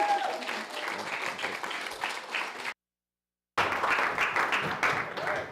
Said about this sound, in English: There are not very many places that you can get applause just for showing up